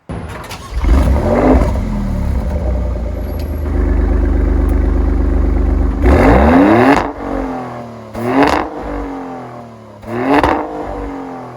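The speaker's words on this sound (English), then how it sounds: "let's just hear it scream" A Maserati Grecale Trofeo in Blu Intenso is revved loudly up close: a sustained high-rpm roar held for several seconds, followed by three sharp blips that rise and drop back quickly, with no talking.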